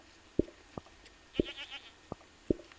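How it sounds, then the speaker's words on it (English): A short recorded goat bleat plays back faintly inside a scrapbook, a thin, wavering cry surrounded by scattered sharp taps and clicks in a quiet room. "Little goat."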